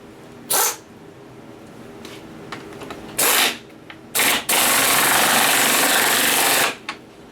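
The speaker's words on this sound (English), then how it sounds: "I'm going to use my little 3/8 impact for this to tighten these." A small 3/8-inch impact wrench tightens bolts on a woodshop project in short harsh bursts, then one long sustained rattling hammer lasting over two seconds, loud and close with quieter gaps between.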